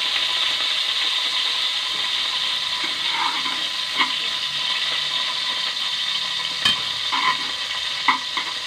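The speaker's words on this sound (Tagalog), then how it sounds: "Tumalsik yung mga mantika mga idol." Hot cooking oil sizzles steadily in a pan, with scattered sharp pops and spatters breaking through the hiss.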